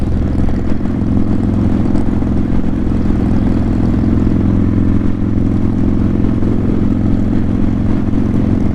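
Motorcycles roll in and out of the 2021 Baldwin Blessing of the Bikes pre-rally party, a steady loud wash of engine rumble and idling with passing bikes blending together throughout, no voices.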